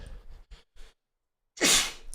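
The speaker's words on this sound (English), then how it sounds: "Bless you." A single loud, close human sneeze with a sharp burst, preceded by a few faint indistinct sounds and near silence.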